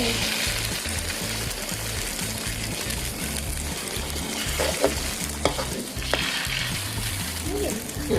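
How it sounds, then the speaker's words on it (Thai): Pot of soup boiling on the stove while rice-noodle gravy dish is prepared, a steady close bubbling and sizzling churn with occasional stirring clinks and a few faint voices in the background. "มันเดือดแล้ว"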